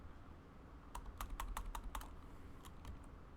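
Bursts of keystrokes on a computer keyboard, typed in two quick clusters of several clicks each, fairly close and clear over a low steady room hum, with no talking.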